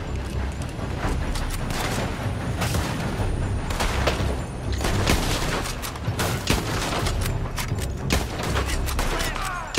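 Gunfire from a building in Red Dead Redemption 2, a dense, loud fusillade of rapid overlapping shots and booms that continues throughout, with voices talking over it.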